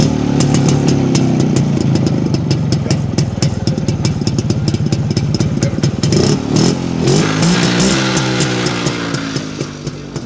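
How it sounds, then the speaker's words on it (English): Harley-Davidson Road King SD motorcycle engine running close by: loud, throbbing idle with a rough, rapid pulse, then blips of the throttle raising the pitch in short rises before settling and fading slightly, no talking. "One of the best sounding motorcycles out there, the Road King SD."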